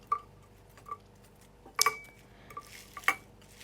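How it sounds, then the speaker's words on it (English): Broccoli, cauliflower and potatoes dropped into a pan, with a few quiet thuds and metallic clinks spaced out over a faint room background, one sharper clatter in the middle. "I put all the vegetable in the pan"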